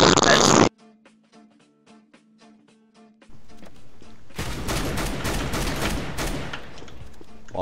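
Gunfire punching through a wall in CS:GO, a brief loud burst at the start, then a near-silent lull with faint tones before a sustained dense stretch of rapid shots and game noise.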